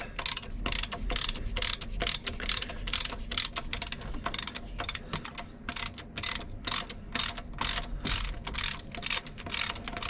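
A ratchet loosens nuts during an Atomic 4 marine engine overhaul, giving rapid bursts of sharp metallic clicking that repeat in steady pulses close up, with no voices.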